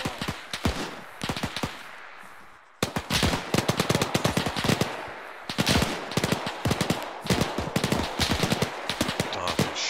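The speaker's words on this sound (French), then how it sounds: "Ah, il me tire dessus." Loud, close automatic gunfire from an ARMA 3 combat game, dense rapid bursts of shots crackling almost continuously with a brief lull early on.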